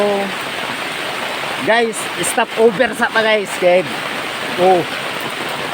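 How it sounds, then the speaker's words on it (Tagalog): Heavy rain pouring as a constant dense hiss throughout, with a person talking over it in bursts. "ulan kaayo"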